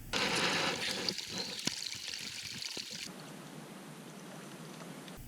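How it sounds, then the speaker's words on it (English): Creek water trickles and pours at a backcountry stream crossing, a close, steady wash of flowing water that thins to a quieter, softer trickle partway through, with no talking. "Every creek crossing is a chance to resupply your water"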